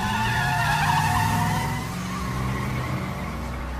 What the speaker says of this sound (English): There's a car out here.